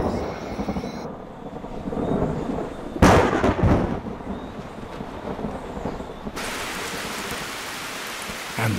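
Heavy rain from a rainstorm pelts a web spinner's silk tent, a steady dense hiss of drops with a loud burst of stronger downpour or distant thunder midway, continuing alone with no voices.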